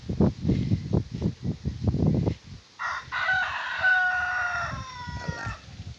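A rooster crows on a farm, a long drawn-out cock-a-doodle-doo rising clear and fairly close after a run of low clucking and fowl calls from the flock.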